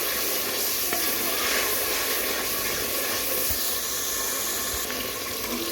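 Tomatoes are added to onions, garlic and ginger frying in a pot for aloo gosht, producing a loud, steady, close sizzle with a continuous hiss throughout.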